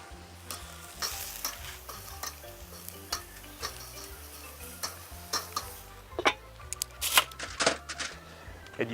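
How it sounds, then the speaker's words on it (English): Skirt steak cooking on a grill just after being flipped, a soft steady sizzle with scattered ticks and clicks, faint and close, with a few sharper pops toward the end. "At the 2-minute mark, go ahead and give your steaks a flip."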